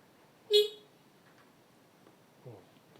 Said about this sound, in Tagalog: itong busina na isa, PIA, or PIA, ito, dual horn, malakas naman siya.